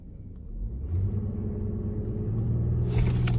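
A Jeep Grand Cherokee Limited X engine rumbles low and steady, then revs harder and louder as it launches and accelerates, close and continuous with no talking.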